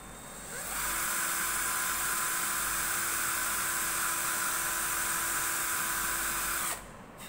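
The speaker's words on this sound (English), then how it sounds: "now I'll very carefully drill the holes" A power drill runs continuously while boring holes in the body of an electric baritone ukulele, a steady high whine held for several seconds after spin-up, then stopping.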